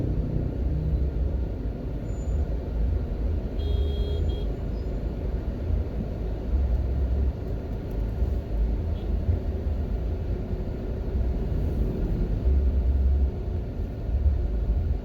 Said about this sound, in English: there's too much traffic on Old Hope Road